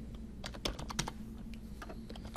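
Light, quick keystrokes on a computer keyboard while entering a spreadsheet formula, a soft irregular patter of clicks heard up close and alone.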